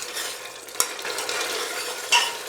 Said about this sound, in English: Keep turning in between, otherwise this masala will stick to the pressure cooker.